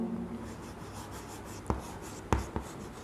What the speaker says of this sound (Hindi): ये चारों यहाँ लिख देता हूँ